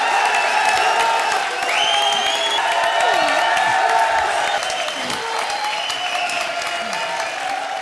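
A television comedy show audience applauds and cheers, a dense steady wash of clapping with scattered whoops, loud and continuous throughout.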